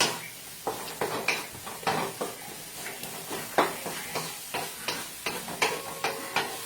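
Hotdog frying in a pan for spaghetti, sizzling steadily while a utensil stirs and scrapes against the metal in repeated, rhythmic strokes, close up and without talk.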